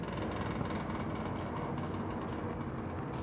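A 1974 Harley-Davidson Shovelhead 74ci FX bobber chopper engine runs steadily nearby, a dense, low, rumbling drone at constant loudness with no talk over it.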